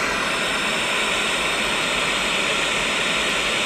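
Loud, steady broadband white noise played as a sleep sound for a colicky baby, a constant hiss with no breaks, heard alone.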